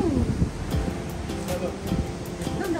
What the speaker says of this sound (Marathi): ओह वाव, जोरदार हवा आहे